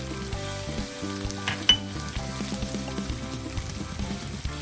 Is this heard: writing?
no